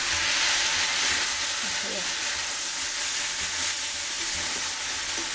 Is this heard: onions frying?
yes